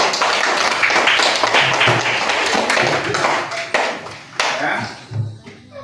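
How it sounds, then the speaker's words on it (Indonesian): Hands clapping in an Indonesian classroom, a dense burst of many pupils applauding together that thins out toward the end, with a few voices underneath. "Baik, tepuk tangan dulu."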